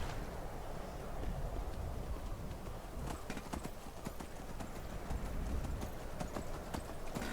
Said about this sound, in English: You're a fine demonic horsey.